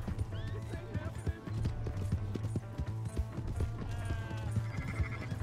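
Horse in the video game Red Dead Redemption 2, hooves clip-clopping in a quick rhythm alongside neighs and whinnies, mixed with game sounds and a person talking over it.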